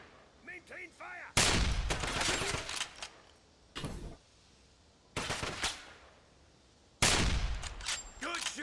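Gunfire rattles in the video game Wolfenstein (2009), several loud bursts of rapid automatic fire separated by short pauses, with a few quieter single shots and echoes between them.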